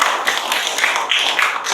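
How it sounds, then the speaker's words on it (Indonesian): A classroom of students clapping together for a correct answer, a steady dense patter of many hands held for a couple of seconds. "Tepuk tangan untuk jawaban."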